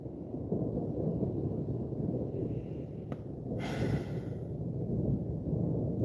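Thunder rumbling outdoors as clouds gather, a low continuous roar filling the whole stretch at moderate distance, with a brief sharper burst partway through.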